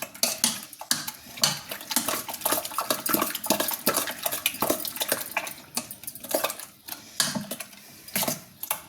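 Spoon clinking and scraping against a bowl while stirring a cucumber yogurt drink, a busy run of rapid small taps and swishes, close and fairly loud, with no speech.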